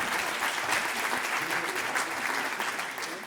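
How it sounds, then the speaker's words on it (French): An audience at a conference on changing communication applauds the round-table speakers, a dense, sustained clapping from a crowd, moderately loud and even throughout before easing slightly at the end. "on peut effectivement les applaudir"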